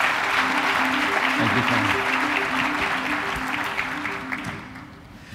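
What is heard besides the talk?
applause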